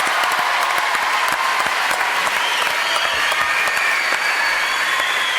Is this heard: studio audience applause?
yes